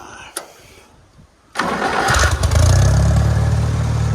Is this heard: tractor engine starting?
yes